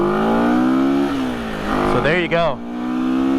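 A 1975 Honda CB360T motorcycle engine runs at a steady idle, briefly revved up and down, while someone speaks over it nearby.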